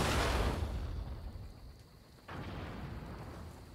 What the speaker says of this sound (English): let's use these cannons.